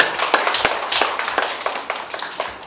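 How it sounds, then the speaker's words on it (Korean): Audience applause for a lecturer at the close of a literature therapy research center opening ceremony at Seoul Women's University, a steady patter of many hands clapping together, fairly near and sustained without voices. "강연해주신 염윤경 선생님께 다시 한번 박수 부탁드립니다."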